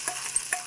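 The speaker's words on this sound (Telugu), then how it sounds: "ఇట్లా ఈ పోపుని మనం దీంట్లో పోసుకొని" Hot tempering is poured into a chutney, with a soft, steady sizzle and a few faint crackles close by, and no voices.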